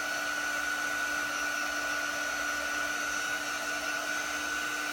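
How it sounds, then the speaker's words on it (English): A heat tool that isn't very hot drying thick ink painted on a shirt over an ink mat, a continuous airy whir holding a steady pitched tone with no speech. "this heat tool isn't very hot"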